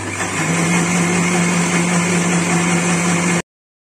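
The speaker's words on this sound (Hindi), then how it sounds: "बस कर देना है ब्लेंड।" A blender whirs at a steady, loud pitch as it mixes protein powder with milk into a shake, then stops abruptly just before the end.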